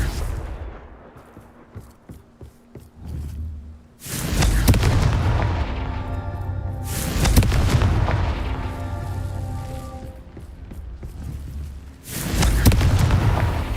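In Hogwarts Legacy, Confringo fire-blast spells explode in loud, booming bursts. Three big blasts each roll and rumble for a couple of seconds, and softer crackling impacts come before them, with no speech.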